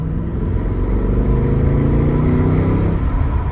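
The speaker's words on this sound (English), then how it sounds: "exhaust sounds absolutely awesome." A loud, close Mercedes-Benz SL63 AMG exhaust rumbling as the engine revs up and settles back, a deep throaty burble throughout.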